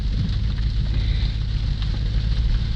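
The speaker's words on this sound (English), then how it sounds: "Here comes the rain." Steady rain falls in a broad, even hiss close by at a Melbourne, Florida boat setting ahead of Hurricane Ian, with no voices.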